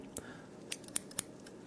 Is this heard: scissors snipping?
yes